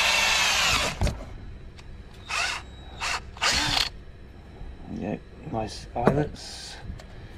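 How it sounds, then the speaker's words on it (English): A power drill works on fishing sinkers in short bursts of whirring, several separate runs starting and stopping, with a person speaking between them. "All I need is a drill."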